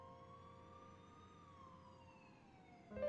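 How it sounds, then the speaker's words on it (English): Police sirens wailing faintly in the distance in the video game 428 Shibuya Scramble, a slow falling tone over a low hum, ending with a short louder clatter. "she could faintly hear the sound of police sirens"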